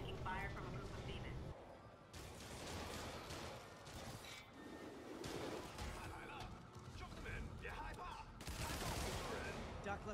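Gunfire from police officers trading shots with a gang of demons in Spider-Man Remastered, a dense ongoing fusillade with crashes and mechanical clatter running loud throughout under game sounds.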